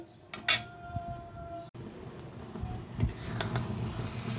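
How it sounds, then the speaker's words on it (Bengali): Raw mango pickle with sugar and jaggery cooks without oil in a pan over a low flame, a metal spoon clinking and scraping against the pan with a few sharp clanks over a soft, steady cooking background. "এখন আমি এটাকে এইভাবে লো ফ্লেমে রেখে কিছুক্ষণ জাল করে নেব"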